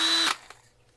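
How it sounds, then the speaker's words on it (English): A power drill whirs loudly and close for about a quarter second with a steady high motor tone, then cuts off and spins down to quiet. "Same with this drill."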